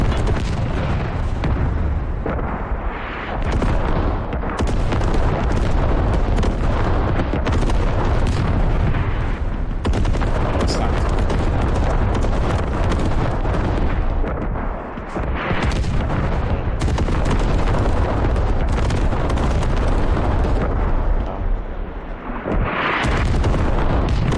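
Airstrike explosions in a tank video game on the Talil map: a dense, sustained barrage of heavy booms and blasts rolling almost continuously, loud and close, with no talking.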